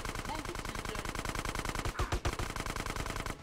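Rapid machine gun fire from the game GTA San Andreas, a dense continuous burst of shots running throughout, loud and close, with a few heavier impacts near the middle.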